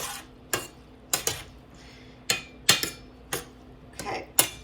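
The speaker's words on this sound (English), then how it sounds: "I'm going to stir that around" Cauliflower rice with liquid aminos stirred in a pan over medium-high heat, with sharp spoon scrapes and clinks against the pan coming in irregular bursts over a soft background hiss.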